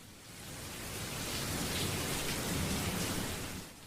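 Heavy, bucketing rain falling as a dense, continuous roar that swells and stays loud throughout, with no voices.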